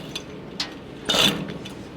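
A hand winch ratchets as it raises the bed of a welding truck, giving a few sharp, close clicks with a louder mechanical burst partway through, no talking.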